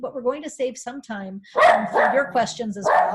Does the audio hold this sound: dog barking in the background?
yes